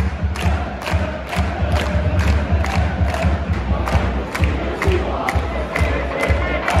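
Thousands of ultras at a women's football match at Celtic Park chant and cheer around kick-off, a rolling stadium roar punctuated by regular rhythmic claps or drum-like beats.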